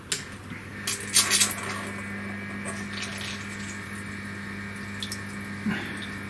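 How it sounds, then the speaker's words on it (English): Flood coolant pump running on a CNC mill, a steady low hum with a trickle of liquid over the workpiece, faint water splashes and a few brief clatters above it, no talk. "So we'll turn that on."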